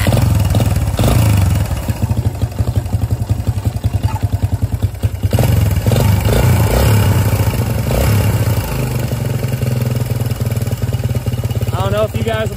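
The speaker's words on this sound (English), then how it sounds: "here it goes after adjusting the cam chain tensioner. So let's see if it's any quieter." A motorcycle engine runs after a cam chain tensioner adjustment, a close, loud idle with rapid mechanical clatter and brief revs, while a person talks over it.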